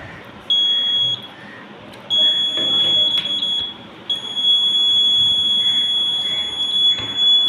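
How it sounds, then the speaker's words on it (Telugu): A water tank full alarm buzzer sounds in shrill, piercing bursts, switching on and off in long stretches with brief gaps, loud and close over a faint room hiss. "వాటర్ నిండినప్పుడు బజర్ అనేది మోగుతుంది."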